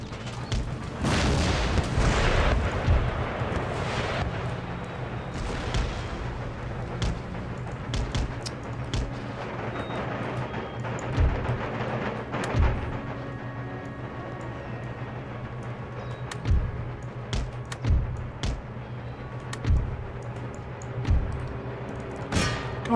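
Garrison mortars and artillery pound during a town assault in Empire: Total War, with a loud opening barrage followed by repeated distant booms and thuds spaced irregularly over a steady battlefield hum.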